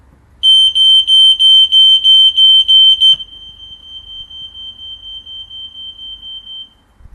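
Radio-linked home smoke and heat alarms go off when a test button is pressed: a loud, piercing beeping pulses rapidly for about three seconds, then a fainter, steady pulsing tone from the linked alarm continues in another room.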